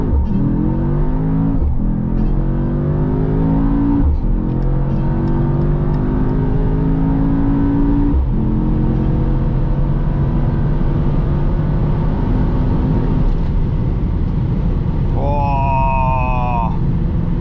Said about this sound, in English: We will be doing another drag race from here, from the entrance of the Autobahn.